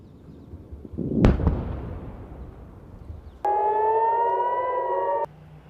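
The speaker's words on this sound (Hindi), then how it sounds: "ये सायरन की आवाज आप लगातार सुन सकते हैं।" A steady wailing air raid siren sounds in Tel Aviv during an Iranian missile attack for a couple of seconds after a burst of loud bangs, fairly distant and alone.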